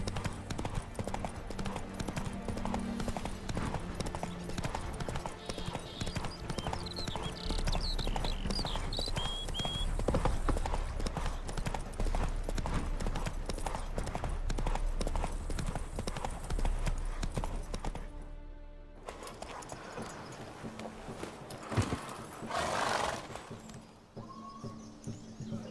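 Rhythmic hoofbeats of a horse galloping in the video game The Witcher, fast steady clip-clop thudding for most of the stretch before slowing and fading, with birdsong in the background and brief spoken lines.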